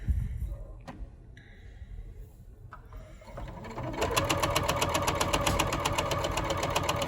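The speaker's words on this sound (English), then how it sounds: "You can see I'm guiding the material through the sewing machine, pulling it through the back." A sewing machine stitches fabric for an Oxford shirt apron. Quiet handling of the material comes first, then the motor starts partway through and runs into a loud, steady, rapid stitching chatter to the end.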